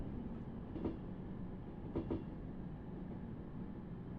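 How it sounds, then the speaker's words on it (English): Train on a British railway line approaching a platform, a steady low rumble with a few faint clanking bursts, heard from a distance with no talking. "The train now approaching"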